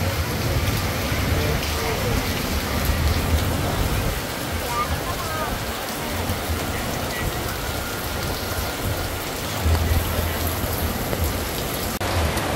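Heavy storm rain pours steadily over a roadside street food stall selling braised duck, a dense continuous hiss with low rumbling underneath, with some speech mixed in.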